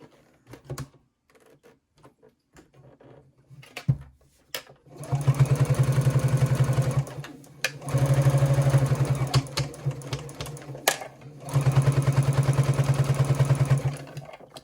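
A sewing machine stitches a wrist strap in three sustained bursts, loud and close, after a few isolated clicks and taps from handling the fabric at the start.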